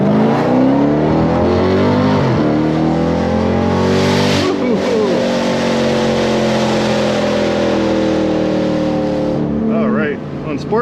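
A 2019 Jeep Grand Cherokee SRT with a Whipple supercharger and Borla exhaust accelerates hard, its loud engine and exhaust rising in pitch through several gear shifts, heard from inside the vehicle.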